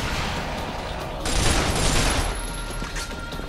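Sustained gunfire in the shooter game Binary Domain, fired at an armored enemy: a dense, loud, continuous barrage that swells midway with bright crackling blasts over a heavy rumble.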